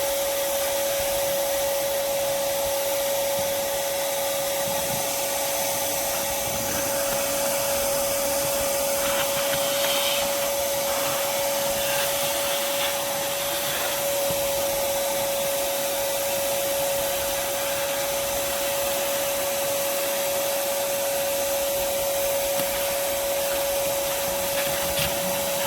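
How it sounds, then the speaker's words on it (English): A shop vacuum pulls debris out of the intake ports of a 5.3-litre Chevy Silverado 1500 truck engine, a loud steady whine with a sharp constant tone and rough airflow hiss that runs unbroken throughout. "You always want to have your vacuum so that you make sure you don't get a bunch of crap down in your cylinders"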